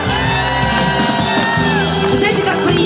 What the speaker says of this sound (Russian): Знаете, как приятно слышать вот эти овации